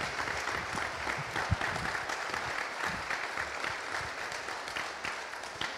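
A live audience claps at a wrestling podcast recorded in Manchester, a sustained wash of applause that fills the room evenly, moderately loud and slightly distant.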